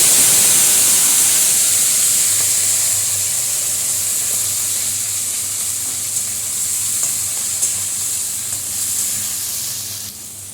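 Tomato, onion stalks, green chilli and nigella seeds tempering in hot oil, a loud, steady sizzle and hiss close by that eases slightly over time, with faint stirring clicks.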